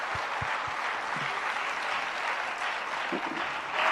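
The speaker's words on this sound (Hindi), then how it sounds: "जरा एक दूसरे के लिए तालियां बजा दीजिए।" An audience at a Hindi religious teaching session applauds one another, a steady crowd clapping that holds at even loudness throughout, with a few low voice sounds near the start.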